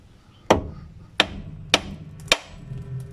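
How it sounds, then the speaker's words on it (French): Four sharp hammer blows on a car's steering hub to pop out a ball joint during a steering rack boot replacement, evenly spaced metallic strikes, close and loud over a faint room hum. "on va faire sauter la rotule au marteau"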